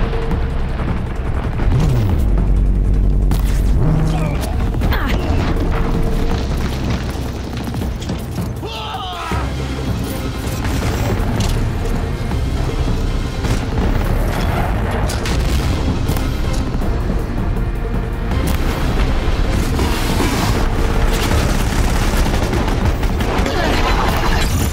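Cannon fire and explosions from the Horizon Zero Dawn video game, a dense continuous barrage of booms and gunfire-like blasts that stays loud throughout, with voices talking over it.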